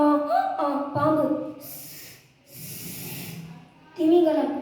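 A voice imitates a snake hissing in a school mimicry competition, two long breathy hisses in the middle, framed by short voiced sounds before and after.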